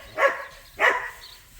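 Two barks from a farm dog on a sheep farm, evenly spaced about half a second apart, moderately close, with quiet background between them.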